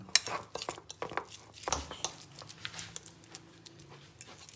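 Sandwich filling is mixed in a bowl with a spoon, producing a quick run of clinks, taps and scrapes against the bowl. The strokes come in irregular bursts, fairly close and moderately quiet.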